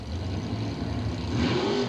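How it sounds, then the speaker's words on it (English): Drag race cars launching off the line at an Englishtown Super Stock Nationals event in 1983, a loud sustained engine roar that swells and rises in pitch as they accelerate. "So the next pair of race cars ready to go."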